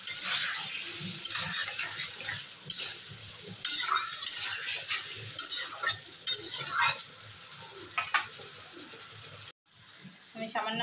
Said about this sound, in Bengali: এবারে ভেজে রাখা কচুগুলো দিয়ে দেবো।